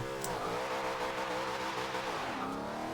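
A Shelby GT500 drag build launches in Forza Horizon 2, its engine roaring loud and close with rising, shifting revs and a brief tire squeal at the start.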